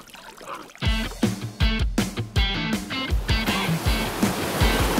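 Water splashes repeatedly as a swimmer in a Level Six Emperor dry suit strokes through open water, with a steady rhythm of close, choppy slaps and churning.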